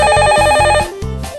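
A telephone rings in an office with a loud electronic ringtone, repeating in a quick regular pattern of tones before stopping.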